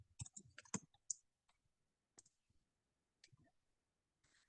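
Numbers being keyed into a calculator during a chemistry stoichiometry problem, a handful of quick, light button clicks clustered at the start, then a few sparse single taps, close and quiet.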